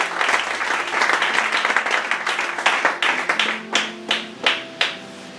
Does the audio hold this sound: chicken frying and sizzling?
no